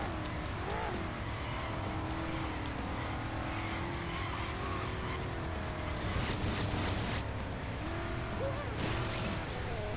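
A car driving in the video game Carmageddon: Reincarnation, with a steady, droning engine running throughout and rising into louder revs and tire squeals near the end.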